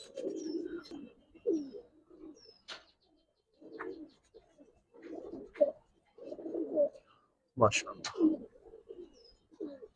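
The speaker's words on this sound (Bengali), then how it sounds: "এটা পুরান জাতের কবুতর" Giribaz pigeons of an old breed coo close by in repeated low, throaty phrases separated by short pauses, with faint higher chirps between them.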